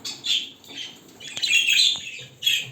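Cockatiels and their chicks chirp in a breeding aviary, with bright, high chatter in repeated bursts and a louder, busier stretch toward the middle, heard close with no talking.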